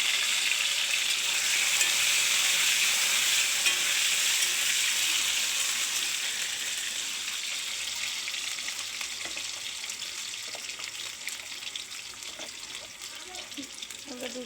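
Taro pieces frying in hot oil with black cumin, a loud, continuous hiss and sizzle that settles gradually into a steadier crackle, with occasional stirring.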